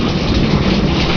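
Rain and rumbling thunder from a September thunderstorm, a steady loud wash of rainfall with low booming rolling underneath throughout, no voices.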